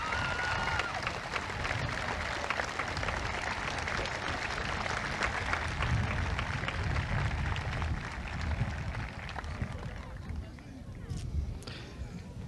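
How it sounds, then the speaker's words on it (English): A graduation audience applauds with sustained, dense clapping that fills the hall for several seconds before tapering slightly at the end. "Let's give them a nice round of applause."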